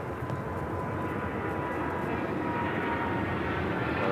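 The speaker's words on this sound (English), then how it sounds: "That's that China Airlines cargo 777 freighter heading to Miami, taking off 25 left, right in front of our cameras." A China Airlines Boeing 777 cargo freighter takes off from runway 25 left at Los Angeles airport, its engines making a steady, broad, loud roar throughout.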